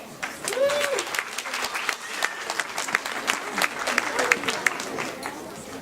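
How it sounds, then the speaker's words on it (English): Audience at a temple school class performance event claps with scattered, uneven hands over murmuring crowd chatter, a brief voice rising at the start. "Please give Anisha another round of applause for her thoughtfulness, dedication and commitment to help our school."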